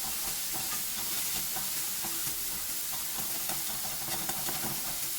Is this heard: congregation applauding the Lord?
no